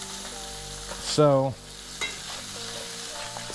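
Freshly caught fish sizzles and fries in a hot pan with a steady crackling hiss, close by, briefly louder as it is stirred, while a voice speaks a single word.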